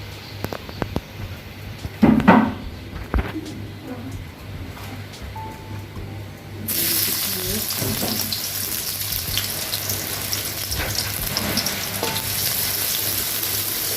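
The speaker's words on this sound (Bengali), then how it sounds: "এটা একটু লাল হওয়া পর্যন্ত, বাদামি রং হওয়া পর্যন্ত একটু আমরা একটু ভেজে নিই" Chopped onion frying in a pan for a vegetable khichuri and hilsa curry, a steady broadband sizzle that starts partway through and holds loud and even, with a few clinks and faint background noise before it.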